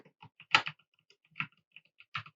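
Someone types on a computer keyboard in quiet surroundings: scattered soft clicks with a few louder clustered keystrokes, close and irregular.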